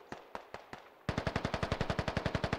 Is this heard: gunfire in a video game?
yes